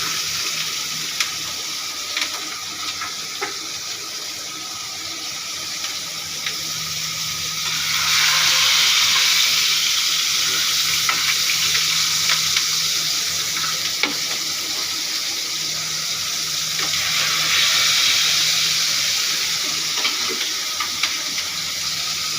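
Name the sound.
ridge gourd with poppy seed frying in a pan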